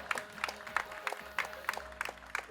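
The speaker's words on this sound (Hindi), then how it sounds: "तालियां जोरदार बजती रहनी चाहिए" An audience claps in a steady, rhythmic beat to welcome actor Sanjay Mishra at a film trailer launch event, with regular pulses over a busy hall background.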